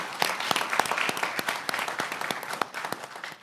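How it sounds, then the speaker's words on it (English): A council chamber audience at a Raleigh city council meeting claps for city staff, sharp individual claps in a loose, uneven rhythm, fairly close and thinning toward the end. "So if we could just give our amazing staff a round of applause."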